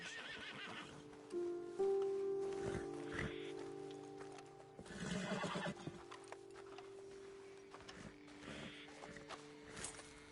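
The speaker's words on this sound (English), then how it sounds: "Best leave the horses back a bit." Horses in Red Dead Redemption 2 whinny loudly and snort, with hooves clip-clopping on the ground nearby; several neighs rise over scattered steps and light rustling, no voices heard.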